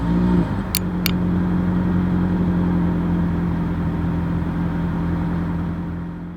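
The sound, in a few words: 2024 Toyota Prius hybrid exhaust sound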